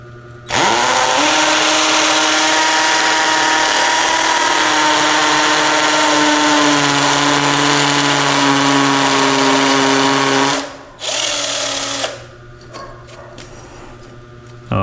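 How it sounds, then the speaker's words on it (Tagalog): A power drill bores a hole, its motor spinning up into a loud, steady, close whine that holds for about ten seconds, then cuts out, restarts briefly and winds down. "Yan, butasan natin ha."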